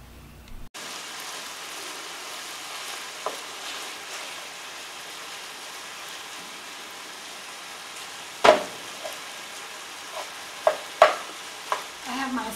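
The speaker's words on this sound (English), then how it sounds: "I'm going to be browning my sausage" Breakfast sausage browns in a pan with a steady, soft sizzle and frying crackle, joined later by a few sharp scrapes and clacks of stirring.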